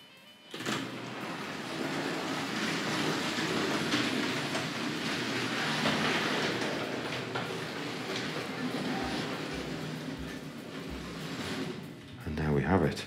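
A Hornby model railway train rumbles steadily along the layout as it backs into a siding, with a clicking sound near the end. A person talks over it at moderate level.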